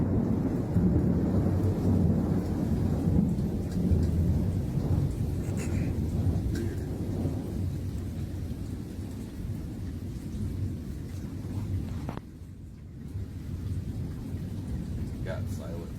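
Deep thunder rolls and rumbles continuously through a nighttime thunderstorm, heavy low booming with light rain beneath, while people talk quietly nearby.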